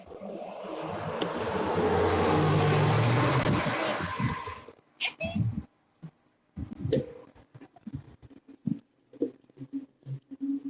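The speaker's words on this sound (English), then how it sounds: "Hello, bus." A city bus rumbles past on a street in Montbello, swelling loud and close for a few seconds before fading, followed by scattered rattles and knocks from a moving bicycle.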